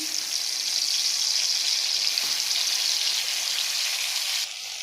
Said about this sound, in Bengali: মাছগুলো আগে ভাজা করে নিই